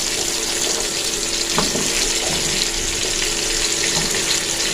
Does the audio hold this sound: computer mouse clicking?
no